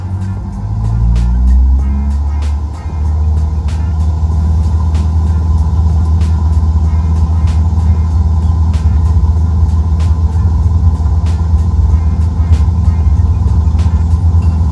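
A Cessna 172 engine at full throttle in a flight simulator, a loud steady droning rumble that holds evenly and never breaks, with faint periodic ticks above the hum and no voices.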